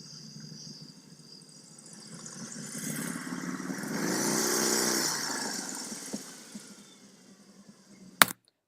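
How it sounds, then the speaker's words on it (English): A motorcycle engine rumbles low, swelling louder as it draws nearer and then fading away, followed by a sharp click at the end. "So that's the sound of a motorcycle."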